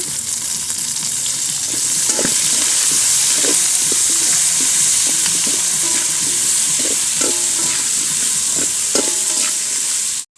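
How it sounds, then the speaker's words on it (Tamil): Steady, loud sizzling of tomatoes sautéing in a pan for sambar, with occasional scraping and stirring sounds throughout. "தக்காளி சேர்த்து வதக்கலாங்க"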